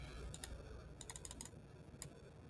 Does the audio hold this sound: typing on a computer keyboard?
yes